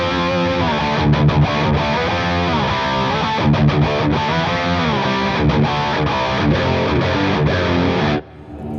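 A Victory Super Countess amp with a distorted, heavily overdriven electric guitar playing chugging riffs with thick low end, loud and continuous before cutting off near the end.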